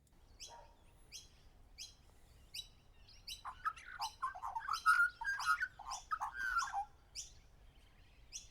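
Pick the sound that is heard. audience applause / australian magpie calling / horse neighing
australian magpie calling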